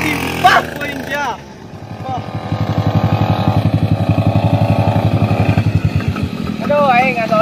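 A motorcycle engine idles and then runs with a fast, steady pulsing putter close by, with people talking loudly over it at the start and end.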